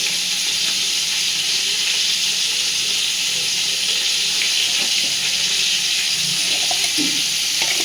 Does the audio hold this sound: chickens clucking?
no